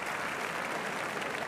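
Applause from the crowd at a show jumping grand prix, a dense, even wash of clapping with no voices over it.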